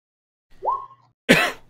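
A single human sneeze, close and fairly loud, with a brief rising inhale followed by a sharp burst.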